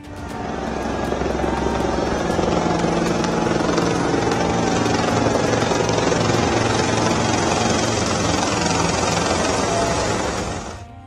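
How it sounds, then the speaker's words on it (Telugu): A helicopter flies overhead, its steady rotor and engine roar loud and close, holding at a constant level for the whole stretch without any talk. "యోగి ఇట్లా హెలికాప్టర్లలో ఎక్కి తిరుగుతున్నాడు"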